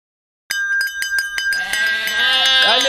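Sheep in a video game bleat in a wavering, nasal call that grows louder and layered near the end, over a steady row of evenly spaced bell-like chimes.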